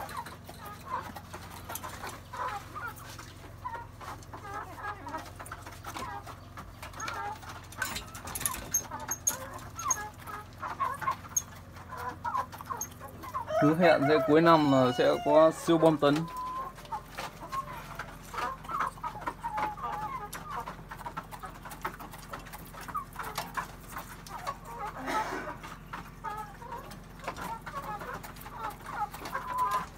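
Chickens cluck intermittently around a poultry-raising area, with one louder, drawn-out bird call rising midway; people talk over the flock for much of the time.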